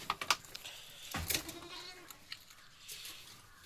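A young Barbari-cross goat kid bleats a few times, close and fairly quiet, in an otherwise calm setting with little else going on.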